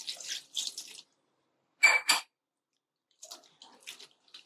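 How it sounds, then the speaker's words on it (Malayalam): Water is poured over soya chunks held in a strainer to wash them, coming in several short splashing bursts separated by quiet pauses, with lighter trickling toward the end. "ഒരു 2-3 പ്രാവശ്യം നമ്മൾ വെള്ളം ഒഴിച്ച് നല്ല വെണ്ണം കഴുകി എടുക്കണം"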